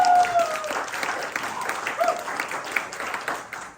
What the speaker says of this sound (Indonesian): Berikan tepuk tangan bagi kita.